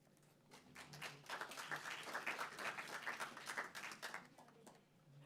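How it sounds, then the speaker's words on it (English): Faint, distant clapping from an audience at a city council meeting swells for a few seconds and then dies away, with a quiet voice audible in the background. "Please, no clapping anymore."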